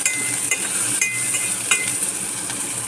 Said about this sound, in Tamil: இது நல்லா எண்ணெயில் கொஞ்சம் நேரம் வதங்கட்டும்.